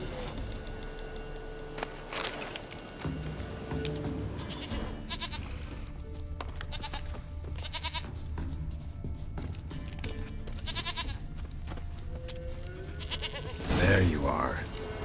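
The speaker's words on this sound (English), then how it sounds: "Here, goat." A goat in The Witcher 3 bleats several times in short, separated cries, with hooves clopping now and then and a voice talking over the game sound.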